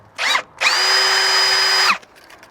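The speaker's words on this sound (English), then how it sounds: "you can use the drill bit" A power drill spinning a 1/8 inch bit for a Lund bed extender install on a GMC Sierra or Chevy Silverado pickup, a short whirring blip, then a loud, steady high whine lasting over a second before winding down, close up.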